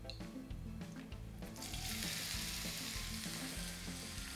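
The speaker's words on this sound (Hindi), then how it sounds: "अब करेंगे तैयारी जनाब आलूओं को कैरामलाइज करने की" Boiled potato cubes caramelize in a hot, lightly greased pan, a close and steady frying hiss that swells into a fuller, louder sizzle partway through, with no talking.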